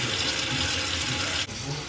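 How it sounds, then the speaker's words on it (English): Hot water gushes steadily from a tap into a sink where items are being soaked with dishwasher pods, a loud continuous rushing close by, briefly dipping near the end. "We're going to soak those things in our sink with hot water and dishwasher pods."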